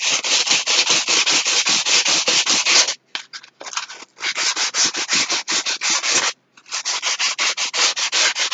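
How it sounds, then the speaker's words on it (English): Steady, loud rasping strokes of sandpaper smoothing a cardboard vanity, a fast back-and-forth rhythm broken by two short pauses, close up with no talk. "Sand it smooth."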